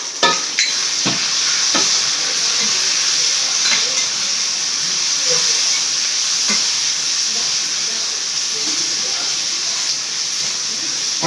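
Onions and tomato frying in oil in a pan for a Tamil bitter gourd thokku, a steady close sizzle and hiss throughout with occasional stirring knocks, no talking.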